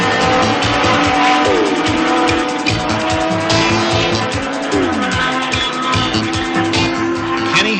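Racing motorcycles fight for the lead on a track, engines screaming at high revs with rising and falling pitch as they shift and pass, loud and continuous.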